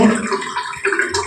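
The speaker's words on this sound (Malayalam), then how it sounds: "കുറച്ച് വെള്ളം ഊറ്റിയെടുക്കും കേട്ടോ" Water pours and splashes steadily as it drains off cooked rice, a close, continuous gushing with no talking.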